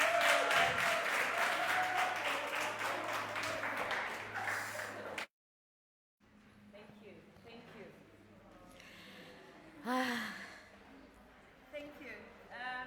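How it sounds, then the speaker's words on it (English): An audience applauds a film at a live critical dialogues event, sustained clapping that stops abruptly, followed by quieter room sound and scattered voices talking. "We'd like to all applaud you and to celebrate the beautiful work on that film."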